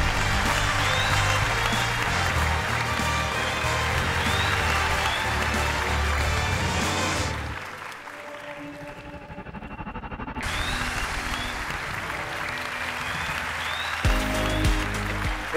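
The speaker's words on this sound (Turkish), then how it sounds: "Alkışlarınızla Enes ve Mehmet geliyor" A studio audience on a Turkish TV singing show applauds loudly, a broad, dense roar of clapping that dips briefly into quieter sound midway before the crowd swells again.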